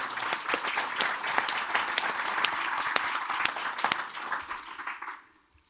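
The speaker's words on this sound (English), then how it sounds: "If we could have a round of applause for those folks" Steady applause from a crowd, dense clapping that holds for several seconds before fading away at the end.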